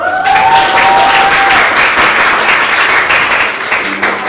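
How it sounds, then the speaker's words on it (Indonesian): A classroom of students applauds, a steady dense burst of clapping that fills the room loudly from start to finish with no talking over it. "Tepuk tangan dulu dong."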